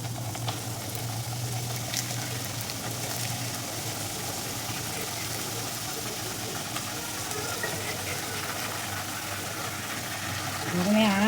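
Nimki dough frying in hot oil in a kadai, a steady, even sizzle that runs throughout at moderate level, swelling slightly louder near the end.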